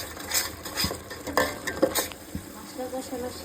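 Biryani masala of fried onion, yogurt, nut paste, ginger, garlic, cumin and salt stir-fried in a pot, a close steady sizzle broken by repeated scraping strokes and clinks of a metal spoon, with no talking.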